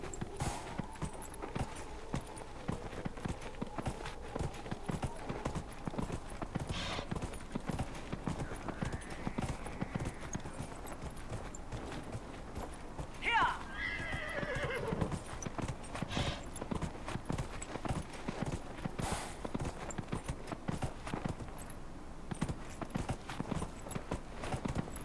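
A horse's hooves clip-clop in Dragon Age: Inquisition, a quick, steady run of hoofbeats lasting throughout, close and even over a busy game soundscape.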